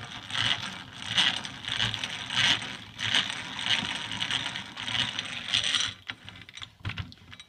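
Hand-cranked manual drill press turning in a steady rhythm of ratcheting, clicking gear pulses roughly every half second, close and moderately loud, with no talk.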